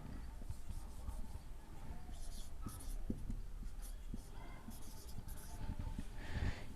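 A pen writing out a class 10 maths answer on paper, with continuous faint scratchy strokes and small taps over steady low background noise, close and quiet throughout.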